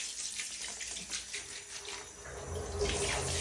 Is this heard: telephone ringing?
no